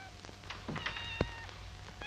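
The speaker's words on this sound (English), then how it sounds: "Still, I hate to hear a cat cry." A cat meows in short plaintive cries, with a louder sharp call near the middle, over a quiet indoor background.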